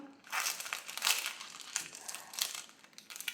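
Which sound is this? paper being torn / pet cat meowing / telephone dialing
paper being torn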